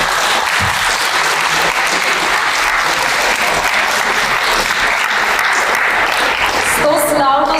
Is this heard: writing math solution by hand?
no